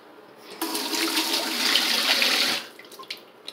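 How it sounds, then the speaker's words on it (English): A low-pressure hotel shower runs in a short burst of about two seconds, its water hissing and splattering onto the floor, close and fairly quiet. "Water pressure is not that great. It splatters all over the floor, and that's just not good."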